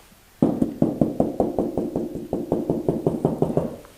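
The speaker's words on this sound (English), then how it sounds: "knocking on the wall, and you're kind of listening for that more solid position on the wall" Rapid knuckle knocks on a wall, about twenty crisp raps in a steady rhythm, close and fairly loud with no voices.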